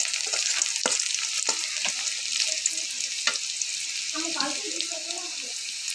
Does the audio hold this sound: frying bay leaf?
yes